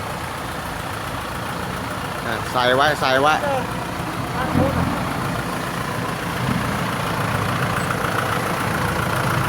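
A farm tractor engine idles with a steady low rumble on muddy ground after rain while people talk briefly nearby.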